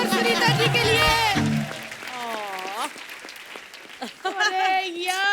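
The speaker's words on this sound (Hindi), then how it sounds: "एक बार जोरदार तालियां गोविंदा जी और सुनीता जी के लिए।" Applause from the studio audience of The Kapil Sharma Show, a moderate wash of clapping underneath prominent music and singing voices that dominate the foreground.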